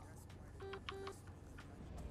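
A short, thin truck horn in American Truck Simulator honks twice in quick succession, two brief tonal blasts over a steady engine rumble.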